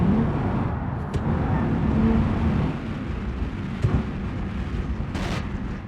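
A car in BeamNG's career mode roars at sustained high revs, a loud and continuous engine drone with a few sharp clicks, heard alone.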